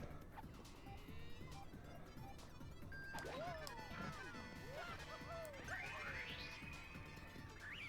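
Fire Smash attack in the video game Paper Mario TTYD: a loud crashing impact with whooshing effects and chirpy sliding tones over game background sound, a few sharp hits in quick succession.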